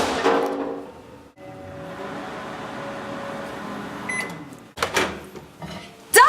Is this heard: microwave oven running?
yes